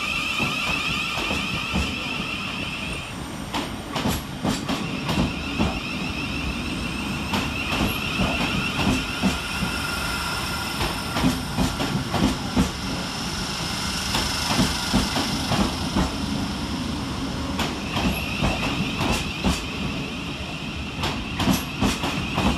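A Class 700 Govia Thameslink electric multiple unit pulls out of Strood railway station, with a steady rumble and rhythmic clickety-clack of wheels over rail joints running throughout, close and fairly loud, with occasional brief high squeals.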